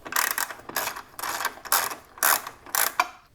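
A hand ratchet tightens a ground wire onto a ground stud on a RAM TRX pickup, giving about six loud, close bursts of rapid clicking with short pauses between strokes.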